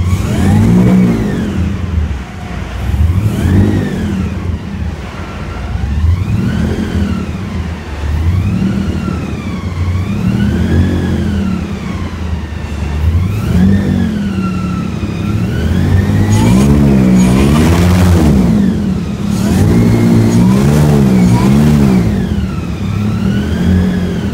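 Airboat powered by a 556 supercharged LSA engine, revving repeatedly with rising and falling pitch sweeps, loud and continuous throughout with no talk.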